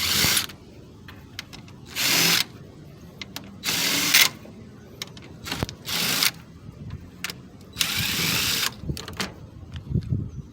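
A power drill backs screws out of the stand of a flat screen TV, firing in several short loud whirring bursts separated by pauses, with small clicks and handling noises in between.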